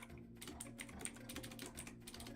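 Someone types on a computer keyboard with a quick, irregular run of close clicking keystrokes and brief pauses, quiet and continuous, with a faint steady hum underneath and no talk.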